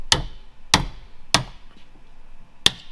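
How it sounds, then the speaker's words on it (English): Four sharp, ringing hammer strikes chiseling off a plastic repair on a Peterbilt 389 truck, spaced roughly evenly, loud and close with quiet gaps between blows. "gotta get a big hammer. We're gonna chisel this off."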